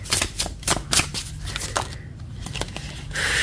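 Tarot cards are shuffled and drawn: a run of crisp riffling snaps and flicks up close, then softer slides, ending in a brief steady hiss.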